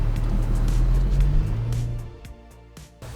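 A Porsche Panamera rolls away nearby, its engine rumble loud at first then fading, followed by a few sharp knocks or clunks near the end.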